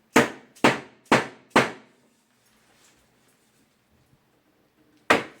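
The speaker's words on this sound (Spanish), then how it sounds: "es conveniente usar un martillo de goma para no dañar el material" Four evenly spaced dull knocks of a rubber mallet in quick succession, then a pause and one more tap, close and fairly loud, while assembling a wooden beach chair.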